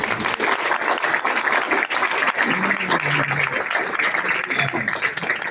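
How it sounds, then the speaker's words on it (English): A banquet crowd at the Norton Lancers baseball dinner gives a dense, sustained round of applause, loud and continuous throughout, with scattered voices and cheers mixed in. "please give him a round of applause"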